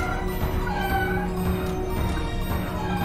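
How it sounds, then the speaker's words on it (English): A squid enemy in the video game We Need to Go Deeper makes cat-like meowing and caterwauling sounds, loud and continuous over a steady game background drone. "I hate that the squid we're fighting has cat sounds."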